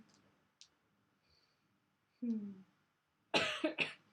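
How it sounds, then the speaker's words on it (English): A few short, close coughs from a person with a cold near the end, after quiet clicks and a brief vocal sound. "I have a cold, and that's why I'm coughing"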